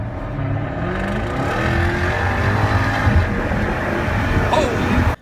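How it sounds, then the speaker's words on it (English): Jaguar F-Type R exhaust roaring loud and close, a continuous rising and falling engine note with rev changes, cutting off abruptly at the end. "There's an example that's true exhaust note"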